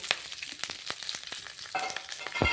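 Curry leaves and green chillies frying in hot oil, a crackling sizzle with sharp irregular pops and spits, close and fairly loud, with no voices.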